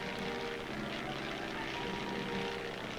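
Single-engine propeller plane droning steadily at a distance, a continuous moderate hum with no breaks, used as a wartime army courier and messenger aircraft.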